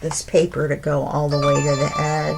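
A mobile phone ringtone plays a steady melodic tone close by while someone keeps talking over it during a paper craft session.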